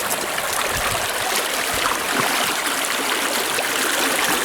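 Steady rushing water flows through a gold sluice box set in a creek on the East Fork, a continuous broad wash close by with no voices.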